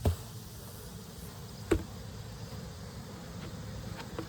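Steady low buzzing of honeybees around a hive, with a couple of brief knocks near the start and middle; no talking.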